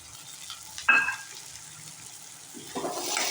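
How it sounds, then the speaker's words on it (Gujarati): Curry leaves and chopped tomatoes dropped into hot oil for Gujarati batata poha, a sharp splash-sizzle near the start, then a quieter steady frying hiss that swells again at the end. "તેને પણ આપણે સાંતળી નાખીએ"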